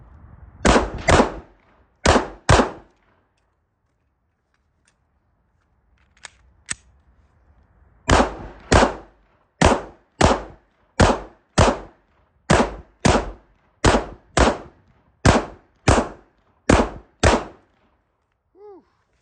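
Sharp, loud pistol shots from a Smith & Wesson M&P 2.0 on a range, fired mostly in quick pairs with short pauses between groups, about twenty shots in all.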